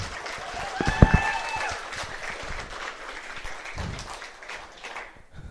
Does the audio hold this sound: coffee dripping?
no